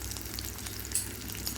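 Oil sizzles and crackles steadily as five or six chopped small onions fry in two tablespoons of oil for tempering a Kerala coconut milk fish curry, with a few sharper pops, close up and with no voices.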